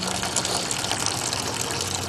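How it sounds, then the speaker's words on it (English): Home-brew wort drains steadily into a pot, a continuous close rush of pouring liquid lasting a couple of seconds with no voices. "Right now I am getting the wort out into my pot,"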